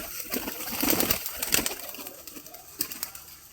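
Pet pigeons cooing nearby, soft layered coos and chirps over a constant outdoor hiss, with a few louder peaks.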